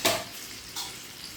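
Onion dropped into hot oil for stuffed squid masala, a loud sizzling burst at the start that fades, then a second softer sizzle as it is stirred, with no talking.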